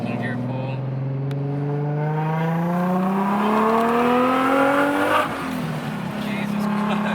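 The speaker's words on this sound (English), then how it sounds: "Second gear pull." A Nissan 350Z/G35 with a VQ35DE engine and an HKS supercharger accelerates hard in second gear, heard from inside the car. The engine note and supercharger whine climb steadily and loudly, then drop sharply at a gear change.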